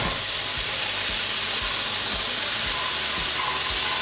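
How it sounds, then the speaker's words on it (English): Balsamic vinegar is whisked into a hot pan sauce for wild goose, giving a steady steamy sizzle and hiss with faint soft whisk strokes throughout, close and moderately loud, with no talking. "So now we're just gonna whisk in this balsamic."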